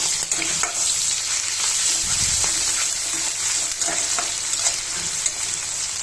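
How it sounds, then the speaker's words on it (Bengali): Ground spice paste frying with prawns, chopped onion and garlic in a hot pan gives a loud, steady sizzle, broken by scraping stirs and occasional spluttering pops. "মশলা বাটা দিয়ে দিলাম"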